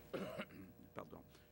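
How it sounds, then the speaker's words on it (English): A single cough into an elbow during a COVID-19 press update, a short throat-clearing burst followed by a couple of softer coughs, close and alone. "yes, I have to cough in my elbow"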